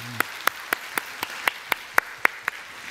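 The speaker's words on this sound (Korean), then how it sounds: "이분들 다시 한번 우리가 박수로 합시다." A congregation at a Korean church Sunday worship service claps together in a steady, even rhythm. About ten sharp, evenly spaced claps are heard in unison, moderately close, with no talking over them.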